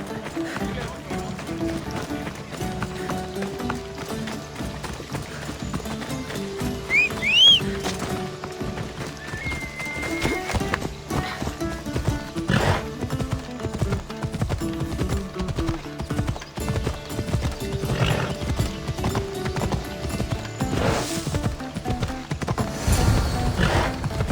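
Horse hooves clip-clop steadily at a run in Assassin's Creed Odyssey, with a brief whinny, game music and talk over the rhythmic, close footfalls.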